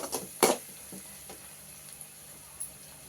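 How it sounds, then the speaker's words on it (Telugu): Onions sizzle in a pan for Andhra-style kodi kura vepudu, a soft steady fry broken by a few sharp stirring scrapes and clatters, fairly quiet and close with no talking. "బాగా వేగిందండి రెండు నిమిషాలు కలర్ మారింది ఉల్లిగడ్డలు"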